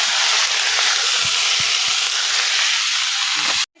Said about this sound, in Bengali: এটা মূলো শাক, মূলো শাক ভাজা ভাজা হচ্ছে।